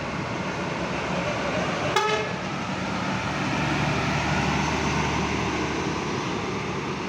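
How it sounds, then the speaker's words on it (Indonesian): A Harapan Jaya Patas bus arriving at Purabaya Bungurasih terminal from Tulungagung gives a single short horn toot early on, over a constant low engine rumble and the wide, echoing hum of the terminal before dawn. "Pukul 3:21 harapan Jaya Patas ini baru datang dari Tulungagung ya."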